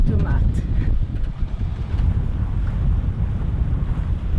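Strong wind buffets the microphone on a sailboat near small islands off Panama, a constant low roar with water sloshing underneath and gusts rising and falling.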